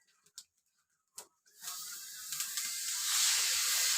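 Panch phoron spices and dried red chili frying in hot oil in a pan, a steady rising sizzle and hiss that swells after a few faint clicks and holds loud to the end.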